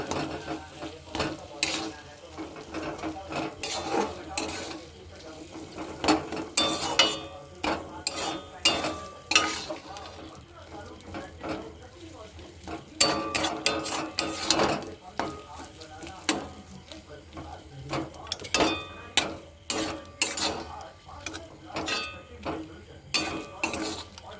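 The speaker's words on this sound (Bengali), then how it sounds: "আমি ভালো করে মিশিয়ে নেব" Potatoes stirred in a pan over a low flame, with a spoon scraping and clinking against the metal in irregular bursts under a light sizzle, close and fairly quiet.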